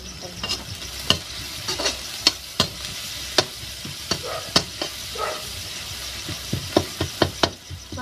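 Onion frying and being stirred in a pan on a clay village stove, a steady sizzle broken by sharp, irregular spatula scrapes and knocks, close and fairly loud with no talk.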